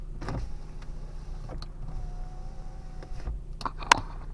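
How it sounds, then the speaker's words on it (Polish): An Opel Astra H power window motor whirs steadily for a few seconds inside a quiet car, with soft clicks and a sharp thunk as it stops. "Szybka elektryczna."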